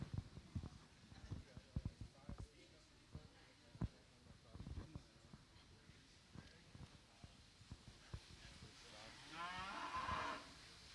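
Angus and Hereford heifers at a winter farm show low now and then over a busy hall of clattering steps and knocks, while people talk nearby.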